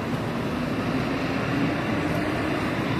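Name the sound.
street traffic noise near a market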